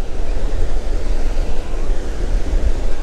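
Ocean surf breaks on a beach near Sydney in a loud, steady roar of waves, with wind buffeting the microphone throughout and no voices.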